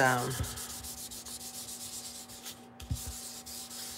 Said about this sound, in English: I'm just going to rub it a little bit so that